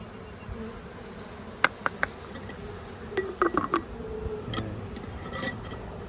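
Honeybees gathered into a container for a mite roll test buzz quietly and steadily close by, broken by a few sharp clicks and taps of glass or plastic.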